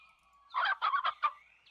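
A strange bird creature in a haunted retro video game lets out a loud run of four or five clucking, gobbling bursts, set between thin sustained tones, with no talk over it.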